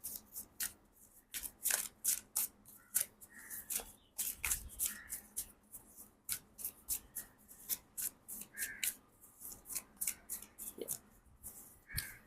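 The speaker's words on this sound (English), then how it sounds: "I have to shuffle till I feel like I have to keep shuffling" A tarot card deck is shuffled over and over, with crisp riffling bursts coming in a steady, uneven rhythm. The sound is quiet and close, with no talking.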